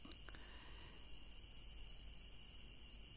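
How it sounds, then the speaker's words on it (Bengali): Crickets chirp steadily at night outdoors, a fast regular pulsing trill that carries on evenly and fairly faint under a quiet background hum, with no voices. "ঝিঝি পোকা ডাকছে"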